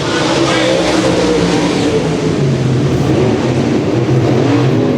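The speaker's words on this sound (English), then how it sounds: "Down the back straightaway, Matt Dotson has assumed control" A-Mod race cars roar around a dirt oval in a main event, engines droning and revving loudly and continuously as a commentator talks over the noise.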